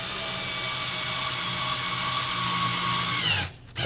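A power drill drives a screw into a Furinno bookcase at close range, a steady high whine for about three seconds that stops abruptly with no one talking.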